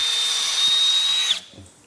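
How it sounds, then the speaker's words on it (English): Power drill pre-drilling holes for heavy-duty hardware, a loud close steady whine held for over a second before it winds down and stops, followed by faint handling knocks. "they'll punch and pre-drill the holes because we're using some pretty hefty hardware here to lock these things down"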